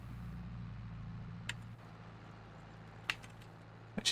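A working vehicle in Farming Simulator 22 gives a steady low engine drone broken by a few sharp, isolated clunks, about three spaced knocks, with one double clank near the end.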